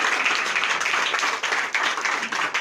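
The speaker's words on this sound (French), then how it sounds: "Donnez l'acclamation à Jésus." A church congregation at a Sunday worship service in Benin breaks into sustained, dense applause, many hands clapping at once in a steady roar close by.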